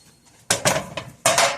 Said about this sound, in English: Get my pans. So I have 2 sheet pans.